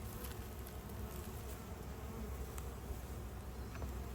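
Dense, steady buzzing of many honeybees from an opened beehive, close and continuous without pauses.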